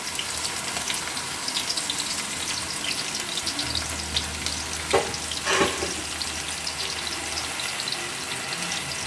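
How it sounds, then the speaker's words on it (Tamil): Sliced onion fries in hot oil for gongura chicken, a steady crackling sizzle throughout with a couple of brief louder clatters partway through. "இதில் இப்போ நம்ம வெங்காயம் போட்டுக்கலாம்"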